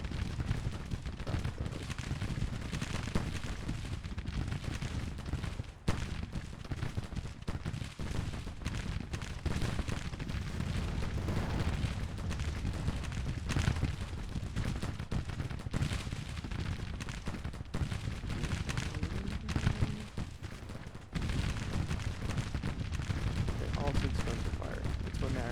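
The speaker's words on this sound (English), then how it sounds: "Guns are firing and doing what they're supposed to be doing." Dense, continuous gunfire and artillery fire from the Civil War video game GT TCW, played as Union infantry, with overlapping shots and heavy booms rolling on loudly for the whole stretch.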